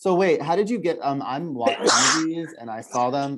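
A single sharp sneeze bursts out between stretches of conversation, loud and close, with people chatting casually before and after it.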